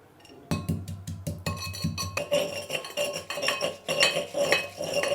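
Ginger and lemongrass are pounded and ground into a fine paste, a run of hard knocks and clinks giving way to continuous rough grinding and scraping with a rhythmic pulse, close and fairly loud, with no talking.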